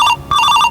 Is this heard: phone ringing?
yes